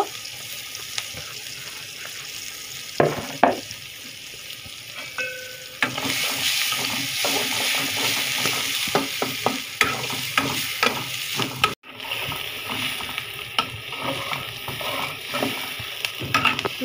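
Chopped onions sizzle steadily in a pan for Bengali egg bhuna. The sizzle grows louder and busier partway through, with scraping stirs and clinks. It is close and continuous, and no voices are heard.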